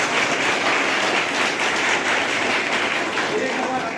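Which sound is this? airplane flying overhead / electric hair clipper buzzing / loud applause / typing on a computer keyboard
loud applause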